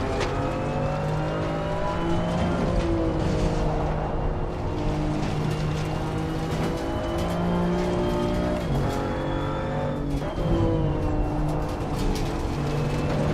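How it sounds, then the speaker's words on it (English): A BMW M2 CS race car engine in Assetto Corsa Competizione revs through the gears, loud rising and falling harmonic whine with shifts, other cars droning nearby in a sim race at Laguna Seca. "Revs the car, nicely done."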